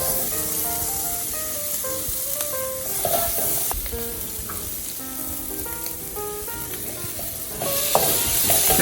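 Garlic and chorizo fry in hot oil in a pan, a dense, even sizzle close up with faint clinks and a brief louder burst of spattering near the end, no speech.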